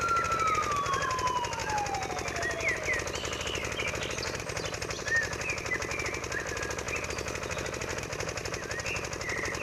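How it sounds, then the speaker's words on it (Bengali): A rescue boat engine in a flood scene of a Bengali cartoon chugs with a loud, fast, steady rattle throughout. The tail of a falling siren tone fades out at the start. "উদ্ধারকারী নৌকা।"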